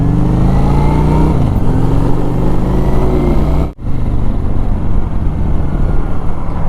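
A Honda Shadow cruiser motorcycle rides along, its engine loud and close with rising revs through gear changes, a brief drop in power near the middle, then a steady throbbing drone and wind rush.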